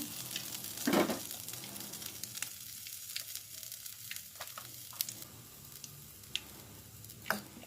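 Ghee heating in a pan gives a soft, low sizzle close by, with scattered light clicks and scrapes of a utensil and one brief louder stir near the start, and no voices.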